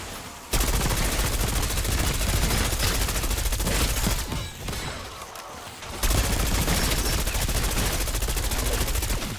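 AK-74 rifle firing on full auto in Black Ops 6, long loud sustained bursts of rapid repeated shots with a brief pause midway, close and dominant with no talking.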